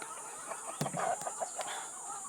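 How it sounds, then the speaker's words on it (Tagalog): Chickens cluck softly in short scattered calls over a steady high hiss, with a few sharp clicks. "So, punta tayo doon sa ating mga sisiw."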